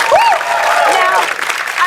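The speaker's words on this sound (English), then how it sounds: "Look at this fucking crowd" A crowd cheers and applauds with rising whistles and shouts, loud and close, in a short continuous burst of mixed voices and clapping.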